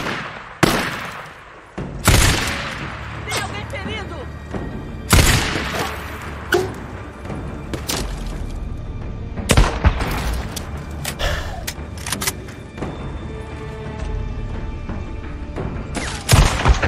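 Gunfire in the video game Days Gone: a series of loud, sharp shots and booms at irregular intervals over a continuous rumbling game background, with no voices.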